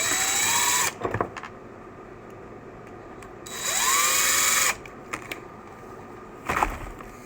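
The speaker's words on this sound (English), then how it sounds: "I'm gonna go ahead and use my screw gun for this part" A DeWalt 20 volt max screw gun with ball tips drives screws on an Arrma Outcast 6S RC car in three close, loud bursts of rising motor whine, separated by quieter pauses.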